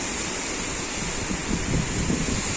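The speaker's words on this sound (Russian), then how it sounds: "Гром, молния. Громыхает со страшной силой." Heavy rain pours down steadily in a thunderstorm at a seaside holiday house in Croatia, a dense continuous hiss with low rumbling swells building toward the end.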